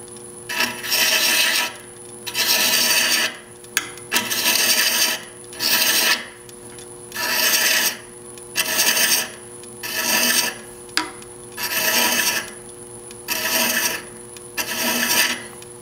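Wooden threads are cut by hand on a woodturned castle box, making a close, rhythmic rasping: about ten scraping strokes of a second or so each, separated by short pauses, with a faint steady hum underneath.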